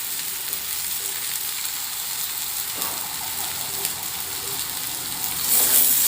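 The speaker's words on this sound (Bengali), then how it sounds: "এবার দিয়ে দেব আমি পেঁয়াজ কুচি।" Chopped onion frying with jackfruit and potatoes in a pan, a steady close sizzle holding throughout and swelling louder near the end.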